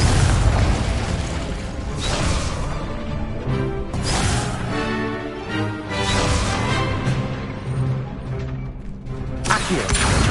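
Confringo fire-blast spells explode again and again in Hogwarts Legacy: loud, close booms and crackling blasts roll on without a break, each burst running into the next.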